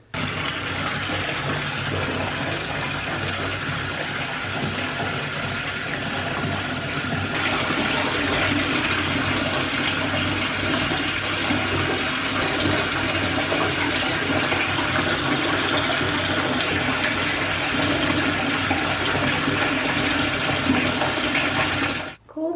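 A bathtub fills with water for a bubble bath. The tap runs loudly in a steady, continuous gush for over twenty seconds, close by, with no talk, and stops abruptly at the end.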